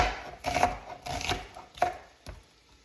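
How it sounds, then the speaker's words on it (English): A knife dicing a medium onion on a cutting board, a handful of irregular soft thunks spaced out over a few seconds, close and fairly quiet in a home kitchen. "we're gonna cut up an onion, get that all diced up"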